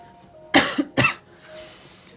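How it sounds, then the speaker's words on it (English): Two sharp, dry coughs in quick succession, close and loud, then quiet. "I just can't stop coughing."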